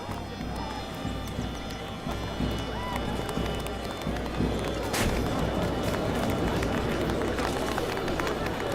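A large crowd gathers in the Witcher 4 Unreal Engine 5.6 demo, a busy continuous rumble of many footsteps, hooves and bustling movement that builds slightly louder, with a sharp crack partway through.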